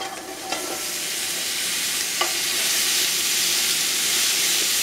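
Onions and red pepper sauteing in olive oil, a close steady sizzle and hiss that swells slightly over time, with a couple of light utensil taps.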